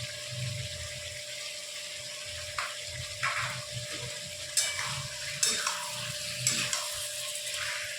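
Goat liver stirred in a hot pan with black pepper and Kashmiri chilli powder: a steady sizzle with repeated scraping and stirring strokes, close and fairly loud, with no talking.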